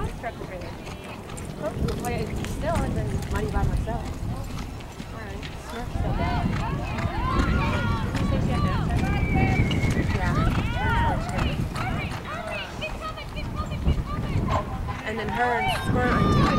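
A horse gallops in a rodeo arena, its hooves beating a quick rhythmic clip-clop under a continuous amplified announcer voice and the crowd.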